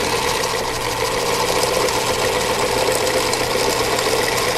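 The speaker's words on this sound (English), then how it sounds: "you're going to start sewing right here, and that's perfect" A sewing machine stitches quilt pieces, a loud, steady, fast mechanical whir and hum running continuously from start to end, close up and without talk.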